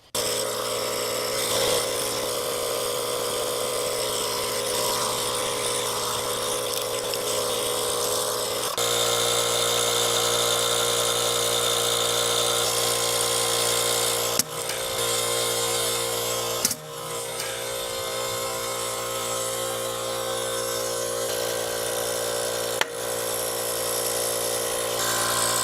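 A tubeless tire being inflated to seat its bead on the rim, a steady, loud mechanical hiss and whir running continuously throughout, broken by a few sharp clicks or pops.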